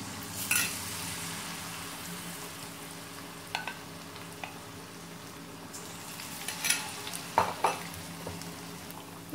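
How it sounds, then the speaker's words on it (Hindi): Eggs dipped in batter fry in hot oil on a low gas flame for egg chilli, a steady soft sizzle running throughout with occasional louder crackles and spatters. "तो अब हम ये एग जो है ये इसमें डाल के घोल में इस तरह से फ्राई करते जाएंगे"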